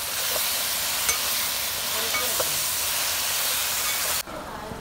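A ginger-garlic-chilli paste ground in a mixer jar is stirred into a pan for Malappuram-style prawns kadai. A dense, even sizzling hiss carries on close by, with faint scrapes, then cuts off abruptly near the end.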